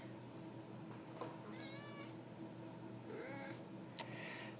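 A house cat meows a few times in quick, faint, high-pitched calls over a steady low background hum, with short pauses between them.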